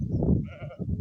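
A young goat on a rural Kenyan farm gives a short, close bleat, a single wavering cry lasting about a second.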